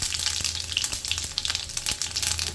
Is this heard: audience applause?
no